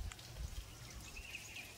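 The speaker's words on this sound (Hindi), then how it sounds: "इधर जाऊँ इधर भी बारिश आ रही, बाहर जाऊँ बाहर भी बारिश आ रही" Rain falling outdoors as a steady, soft hiss of drops hitting surfaces, continuous and fairly close with a few faint chirps in the background.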